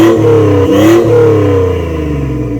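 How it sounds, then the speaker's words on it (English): A Honda Accord converted into a Lamborghini replica revs its engine in a residential street in Bangkok, a loud close exhaust blip rising and falling twice before settling back to a steady idle rumble. "give this thing a little bit of revs for us"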